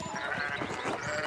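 Repeated sheep bleats from a video game, several overlapping calls coming in a dense, continuous flock chorus with no talking.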